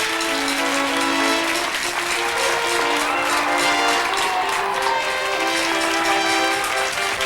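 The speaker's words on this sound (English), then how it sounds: "Stand right up and take your well-deserved round of applause." Audience applause rising after a magic illusion where someone was cut in half and restored, a steady dense wash of clapping under sustained tonal music, loud and continuous throughout.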